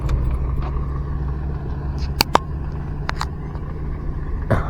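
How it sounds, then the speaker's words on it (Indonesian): Trucks working in a hillside area hauling mountain soil, a steady low engine rumble throughout with a few short clanks and knocks over it, no talk. "banyak sekali kendaraan truk yang sudah beroperasi memuat tanah gunung di kawasan ini"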